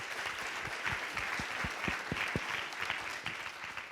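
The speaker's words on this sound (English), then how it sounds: "one more round of applause for our fabulous visitors." An audience applauds steadily for several seconds, a dense patter of many hands clapping with no talk over it.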